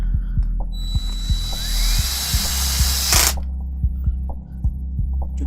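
A power screwdriver backs screws out of a mechanical piano keyboard, a close whirring drive with a whine over a steady ticking ratchet-like pulse, stopping abruptly partway through, then a low hum remains.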